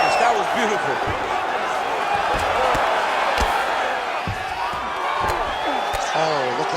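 A virtual arena crowd in the UFC 5 video game reacts with a swelling murmur and cheers to a strike from the bottom fighter, with sharp thuds of blows mixed in and commentators talking over it.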